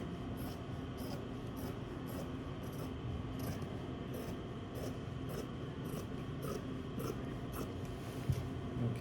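Fabric for a skirt hem is cut, giving a steady run of soft regular scissor snips and rustling cloth, close but quiet, with no talk.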